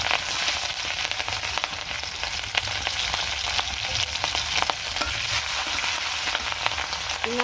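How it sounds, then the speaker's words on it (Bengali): Green chilli dal frying in a pan gives a steady, dense sizzle and crackle throughout, with faint scrapes of stirring and no talking. "নাড়াচাড়া দিয়ে দিলাম"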